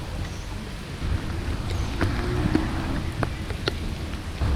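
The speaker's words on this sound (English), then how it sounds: "hiding away under this tree from the pouring rain" Pouring rain falls steadily around a cyclist sheltering under a tree during an overnight Moors and Wolds 400 km audax ride, a constant hiss with scattered louder drips and patters.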